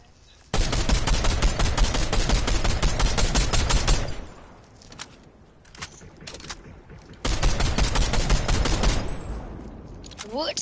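Rapid automatic gunfire in the Fortnite video game, two sustained bursts of fast shots separated by a quieter stretch with scattered single shots, loud and close, with players talking.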